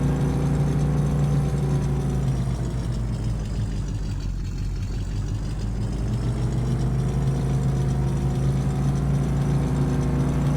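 A compact supervisor pickup truck with a beacon light idles in Farming Simulator 17, its engine holding a steady, low, droning rumble throughout, close and unbroken, with no talking.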